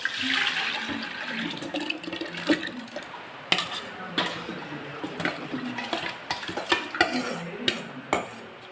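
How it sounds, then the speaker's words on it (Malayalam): Soaked wheat and its soaking water are poured into a rice cooker pot for wheat payasam. A splashing, gushing pour is broken by scattered clattering knocks of the pot and utensils, growing more frequent toward the end. "അപ്പോൾ ഞാൻ ആ വെള്ളത്തിലിട്ട് വെച്ച ആ വെള്ളവും ഗോതമ്പും കൂടെ കലത്തിലേക്ക് ഇട്ട് കൊടുക്കുകയാണ്."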